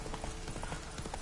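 Roach, the horse in The Witcher 3, trots along with a quick, even clip-clop of hooves, moderately loud, over a low game ambience.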